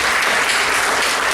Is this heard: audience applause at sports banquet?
yes